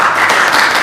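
Brief burst of congregation applause at a Shabbat morning service, a dense wash of many hands clapping at once, loud and close.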